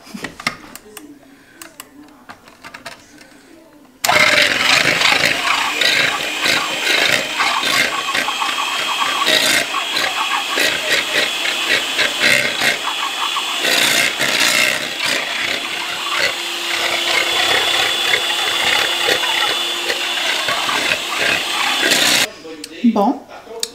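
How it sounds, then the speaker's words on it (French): Dalgona coffee mixture is whisked with a steady, loud whirring and rattling that runs for about eighteen seconds before cutting off abruptly, with a voice faintly audible at times. "Ça fait 5 minutes que je fouette."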